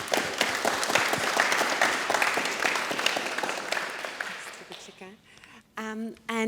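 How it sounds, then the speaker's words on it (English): Audience applause at a startup breakfast talk on customer discovery, a dense steady clatter of clapping for about five seconds that thins out and fades, followed by a voice starting to speak. "Please join me in a round of applause."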